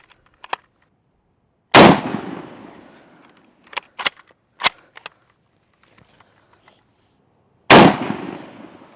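A WWII rifle fired on an outdoor shooting range: two loud, sharp gunshots several seconds apart, each with a ringing tail, plus lighter metallic clicks and handling clatter from the rifle between them.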